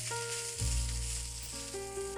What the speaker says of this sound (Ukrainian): Коли додали баклажани, нам треба з вами посмажити ну буквально хвилинок 10.